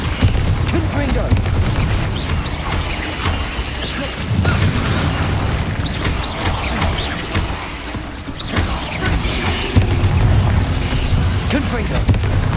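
Repeated Confringo spell explosions in Hogwarts Legacy, a series of heavy booms and crashing bursts over a continuous rumble, coming in waves with voices calling out amid the noise.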